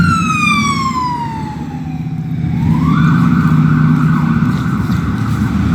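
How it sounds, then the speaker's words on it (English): An emergency siren passes along a city street, its wailing tone sliding down, then jumping back up and holding steady over the low rumble of traffic. "Get ready here, comes a siren."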